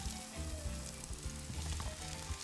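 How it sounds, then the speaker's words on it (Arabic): Chopped onion sizzling in hot oil with mastic in a pan, a steady crackling fry that stays close and fairly quiet for a couple of seconds, with light stirring. "لا أقول لك خليني أنزل البصلة عشان تبدأ تاخذ لون"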